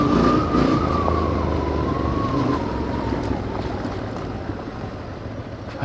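Motorcycle ride on mountain roads near Skhidnytsia in Ukraine's Skole Mountains region, with a steady engine drone and wind rush, a gently wavering engine tone held loud and close throughout, no talking.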